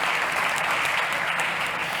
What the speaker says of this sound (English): Big round of applause for Thomas Esquero from Slang.